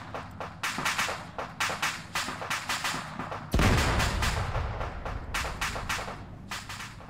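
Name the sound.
airstrikes in a video game, PMC PvP Ops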